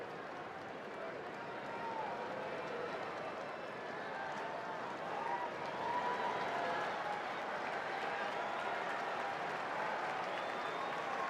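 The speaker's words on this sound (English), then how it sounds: "Crowd trying to give him a boost" A baseball stadium crowd at a Rockies–Dodgers game keeps up sustained, distant applause and cheering, a steady swelling roar with no distinct claps standing out.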